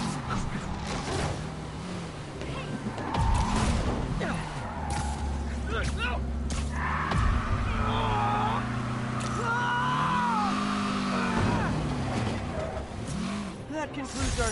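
Spider-Man PS4 car chase: engines rev and rise in pitch, with tire and brake noises through a busy game mix, while a voice talks over much of it.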